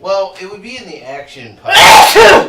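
A sneeze bursts out loud and close during a tabletop game session of Heromaniacs, a sharp broadband blast following a man's conversational speech and lasting under a second.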